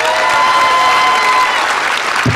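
Audience applause at a public school board hearing on school closures, loud, sustained clapping from a packed room that fills the whole short stretch, with no speech over it.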